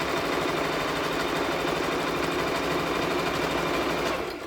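A sewing machine hums loudly and steadily at close range while stitching a shoulder seam on an Iro and Buba garment. Its whirring run holds constant for over four seconds before easing off at the end.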